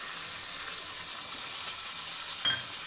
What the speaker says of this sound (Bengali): এই যে চিকেনটা আমি এই মশলার মধ্যে দিয়ে দিচ্ছি,